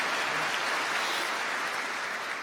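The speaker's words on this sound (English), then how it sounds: "You can give a round of applause for that too." An audience at a military health sciences university commencement ceremony claps in a steady, moderate wash of applause, heard from a distance, with no voices over it.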